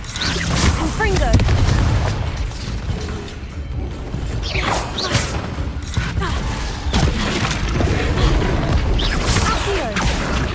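Blasting spell explosions from the Confringo curse in Hogwarts Legacy, several loud booming bursts over a continuous rumble of combat effects, with voices around them.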